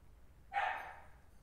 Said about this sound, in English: They'll just keep barking like maybe something's going downtown.